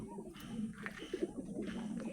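Pigeons coo in low, throaty bursts, several short murmuring calls close by over a muffled background.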